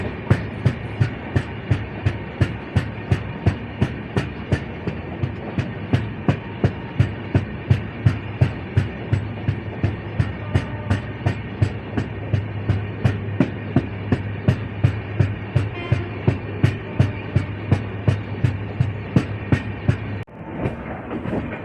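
Train 12111, the Amravati SF Express, runs steadily along the track near Badnera, its wheels beating a fast, regular clickety-clack over rail joints under a constant low rumble, loud and close from on board.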